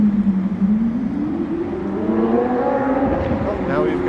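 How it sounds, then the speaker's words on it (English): A Lamborghini revs loudly on a downtown Toronto city street at night, its engine note climbing steadily in pitch over several seconds, close and prominent against the surrounding street noise. "now we've got a Lambo just being loud, not speeding like that motorbike"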